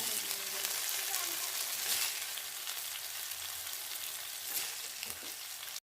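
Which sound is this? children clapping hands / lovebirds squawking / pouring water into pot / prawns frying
prawns frying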